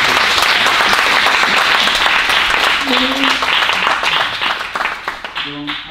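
Applause at a town council installation meeting in 2020: steady, loud clapping from a room of people, tapering off near the end as a voice begins to speak.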